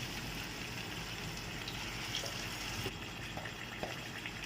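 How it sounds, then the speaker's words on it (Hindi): A glass of water is poured into a pan of cooking liver, giving a steady gushing, hissing wash of liquid that runs continuously and fairly loud, with no talking. "1 गिलास पानी ऐड करेंगे।"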